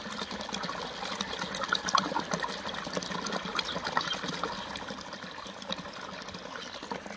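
Irrigation water flowing into a clover field, a continuous close gush and trickle at a steady level with no voices.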